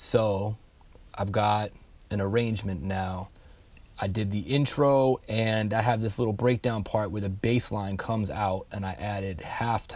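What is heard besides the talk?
No everyday noises stand out.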